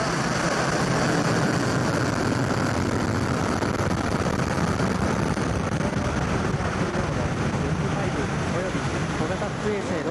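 Roar of the JAXA H3 rocket's main engines igniting at launch from Tanegashima Space Center, a loud, sustained broadband rumble that fills the whole stretch without letup.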